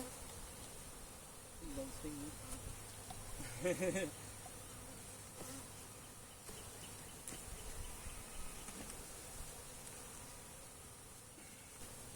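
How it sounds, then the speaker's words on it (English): A honeybee buzzes close to the ear during hive work amid drones, its whine swelling loudly around the four-second mark, then fading to a steady faint hum of insects over the remaining seconds. "there's a bee on my ear"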